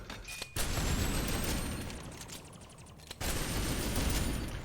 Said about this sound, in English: This is my pistol.